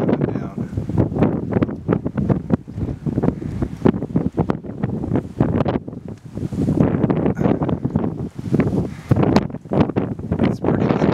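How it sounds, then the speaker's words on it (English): Strong gusts ahead of Hurricane Leslie around a house, arriving as choppy, close bursts of roaring wind that buffet the mic repeatedly and rise and fall over several seconds. "It's pretty windy. The wind's blowing me pretty good as I'm walking around here."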